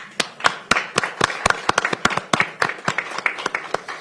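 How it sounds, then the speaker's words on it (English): A small audience at a Pierce council meeting applauds with sparse, distinct hand claps, a steady patter of individual claps close by with no talk over them. "Let's give him a round of applause."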